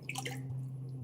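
Water poured while throwing berry bowls on a pottery wheel with a sponge, heard as close, wet drips and splashes over a steady low hum, without talk.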